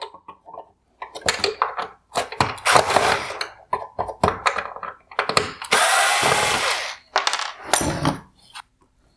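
A power tool drives a hidden torque screw on the headlight adjuster of a 2016-2019 Mercedes-Benz GLS550 OEM LED headlight. Close, loud bursts of whirring come in short and longer runs with pauses between them, and there is no talk.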